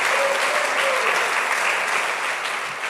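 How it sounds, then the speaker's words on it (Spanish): A church congregation applauds during a Sunday sermon, loud dense clapping that holds steady for the whole stretch and eases off slightly at the end, with a faint voice or cheer mixed in. "Démosle un aplauso a Dios."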